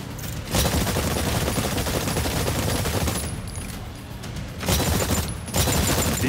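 Dense automatic gunfire at targets in Exoprimal, a loud, nearly unbroken rattle that dips briefly in the middle before surging again.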